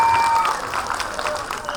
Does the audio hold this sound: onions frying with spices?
no